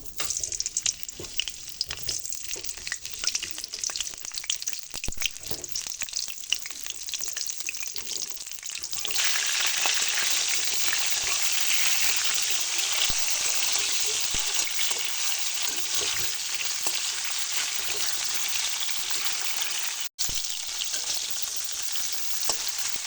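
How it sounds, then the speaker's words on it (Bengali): Cauliflower and potato fry in hot white oil in a wok, a constant close sizzle with occasional stirring that swells into a louder, denser crackle partway through. "তেলটা খুব ভালো করে গরম হয়ে গেছে এবারে ফুলকপি আলু ভেজে নেব"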